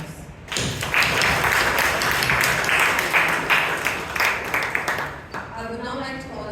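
Members at a Toastmasters club meeting in Bangalore clap for the Toastmaster, a loud burst of applause lasting about five seconds that tapers off into voices speaking at the end.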